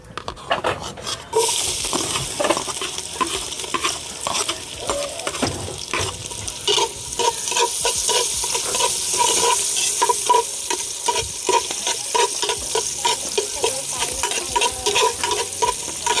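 Ginger sizzling and being stirred in a hot pan for a crab and coconut milk stew, a steady loud fry with scraping stir strokes after a brief initial splash.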